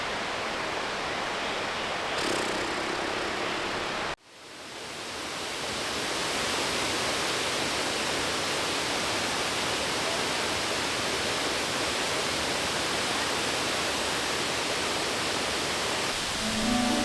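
A waterfall in the wild Dominican roars as a steady, loud, dense rush that continues almost unbroken throughout, with only a brief dip partway through.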